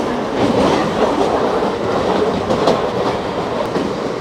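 Mumbai local train, nearly empty, running between Marine Lines and Churchgate stations: a steady, loud rolling rumble with faint rhythmic wheel clatter heard from inside the carriage, no talking.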